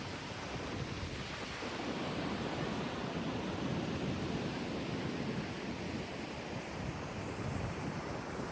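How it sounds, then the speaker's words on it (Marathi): Rough sea surf rolls and breaks continuously along Tarkarli beach, a steady broad roar mixed with gusty wind buffeting the microphone. "एकदम वॉकेबल डिस्टन्सवरती आम्हाला समुद्र आहे. समुद्र पण खूप खवळला आहे."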